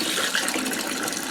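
Cold tap water runs steadily over freshly boiled eggs in a kitchen sink, a continuous close splashing hiss with no talk.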